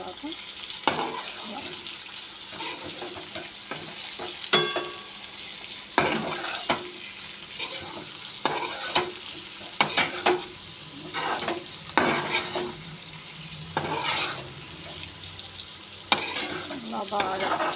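Curry frying in a pan sizzles steadily while a utensil stirs it, scraping and clattering against the pan in irregular bursts, close by, with a voice occasionally speaking over the cooking.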